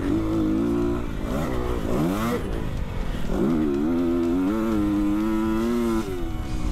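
Kawasaki dirt bike lapping a motocross track with factory WP suspension, its engine revving hard and loud, rising and falling with gear changes and throttle blips across the lap.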